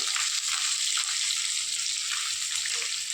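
Sliced onions frying in oil with bay leaves and curry leaves, a steady bright sizzling hiss that stays even throughout with no talk.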